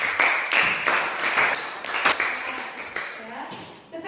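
Students in a classroom clap in several quick bursts of applause, moderately loud and close, with voices mixed in.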